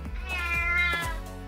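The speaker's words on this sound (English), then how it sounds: "The scared cat scratched the girl's face." A frightened cartoon cat lets out a long, drawn-out yowling meow, loud and strained, over soft background music with no talking.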